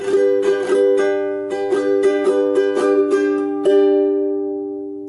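A ukulele strums the chords of a song in a bright, steady rhythmic pattern, close and clear with no voice, ending on a final chord left ringing as it slowly fades.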